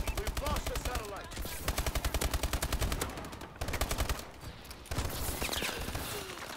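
Gunfire in Call of Duty: Advanced Warfare, rapid automatic bursts of loud, close shots repeated in quick rhythmic strings with brief gaps, plus occasional voices mixed in.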